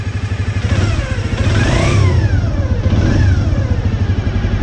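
A small Honda Dream 50 motorcycle engine running just after starting, a loud, close, rapid putter with the revs rising and falling twice before settling.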